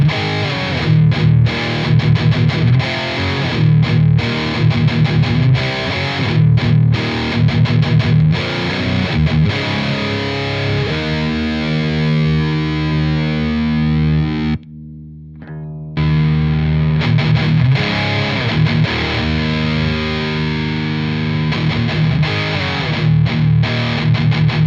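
Heavily overdriven electric guitar through a Marshall DSL pedal, played loud and alone, thick distorted chords and riffs with a brief drop to near silence midway before resuming.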